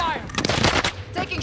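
Bursts of automatic gunfire from a C58 rifle in a Warzone match, sounding loud and close in quick rapid volleys, with a few brief pauses between bursts.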